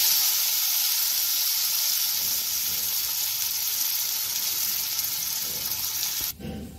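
A tadka of hing, whole cumin, chilli powder and chopped coriander sizzles loudly onto dal fry, a steady close hiss that drops off abruptly near the end.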